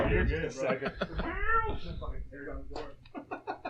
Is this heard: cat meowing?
yes